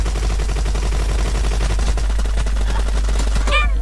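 Rapid automatic gunfire from PUBG Mobile rattles steadily and loudly through the whole stretch, dense repeated shots with no pause and no talk.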